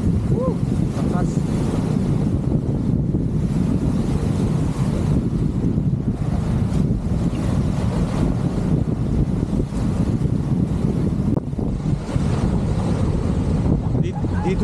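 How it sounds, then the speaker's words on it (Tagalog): Strong waves break at a beach under heavy wind buffeting the microphone, a constant rough roar throughout, with voices talking intermittently. "Dito guys, malakas ng alon."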